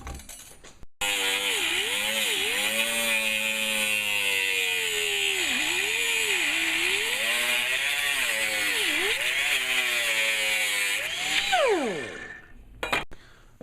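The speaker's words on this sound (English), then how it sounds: "I'm going to cut it with the same cutoff wheel" A cutoff wheel grinds through 1/16-inch stainless steel for homemade camping gear, a loud steady high-pitched whine with wavering pitch that holds for about ten seconds, then winds down and stops.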